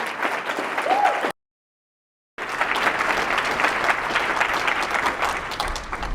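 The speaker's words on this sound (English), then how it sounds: "let's give Trent and all of you a round of applause" Applause from a crowd at a campaign kickoff rally for disclosure legislation, a steady wash of clapping broken by a brief silent gap about a second long before the clapping resumes just as loud.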